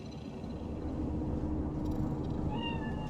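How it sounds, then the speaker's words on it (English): A cat meows in Cyberpunk 2077's Night City, with a short rising meow near the end over a steady ambient city hum and no speech. "Do you see it? That cat?"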